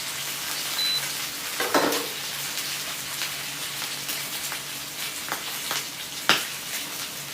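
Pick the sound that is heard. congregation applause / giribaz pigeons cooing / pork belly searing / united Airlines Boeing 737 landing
pork belly searing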